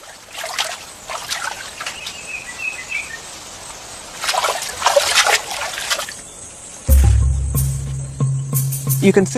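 Water trickles and splashes softly where chimpanzees bathe outdoors, a steady liquid babble with bird calls and insect chirps, joined later by a low rumbling thump and more splashing.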